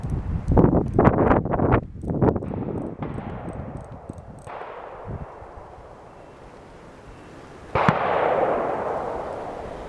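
Black powder revolver, an 1858 model loaded with combustible paper cartridges, fired outdoors: a rapid cluster of sharp booming shots, then a single loud report, with wind noise between.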